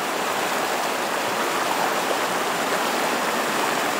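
Steady rushing water of the Razdolnaya (Suifen) River in the early morning, a broad continuous flow close by with no breaks or voices.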